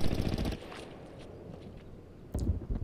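Gunfire in the World War II shooter Hell Let Loose in a forest, a sharp burst of rapid shots at the start, then quiet rustling and a second loud burst near the end.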